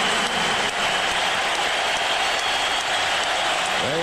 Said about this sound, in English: get his just due, a standing O from the sellout crowd here at the back.